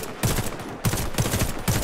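Automatic gunfire from the PS4 video game Warface comes in rapid repeated bursts, loud and close, separated by brief pauses.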